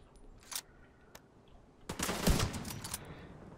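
Gunfire in the shooter game The Division 2: a few isolated sharp shots, then a dense burst of rapid fire lasting about a second, fairly loud against a quiet background.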